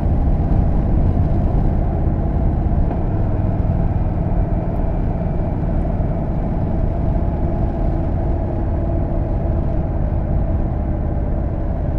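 Indian Chief motorcycle riding on the road with a tall 17.8-inch windscreen, a steady low engine drone and wind rumble held loud and unbroken throughout.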